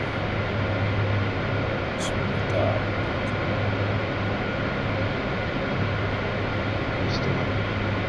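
C-130 transport aircraft taking off in a flight simulation game: a dense, even engine roar and propeller drone fills the scene at constant loudness, with faint voices in the background.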